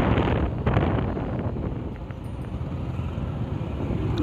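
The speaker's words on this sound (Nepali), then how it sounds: "यता हावाले यसै समस्या दिएको छ।" Heavy wind buffets a helmet or handheld microphone during a hot, windy motorbike ride through Kathmandu Valley traffic, with a loud, continuous low roar that eases briefly midway and then swells again.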